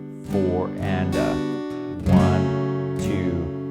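Acoustic guitar strumming for a song, heard as four ringing downstroke chords with a quick upstroke added at the end of each count. The playing is clear and close, with no talking.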